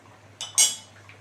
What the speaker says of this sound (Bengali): ভাজা মাছটা দিয়ে দিচ্ছি